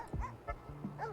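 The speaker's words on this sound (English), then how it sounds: "The dogs in the building are barking at you." Dogs barking inside a building on a golf course in Hot Shots Golf 5, a quick run of several close, sharp barks and yips with a low game hum underneath.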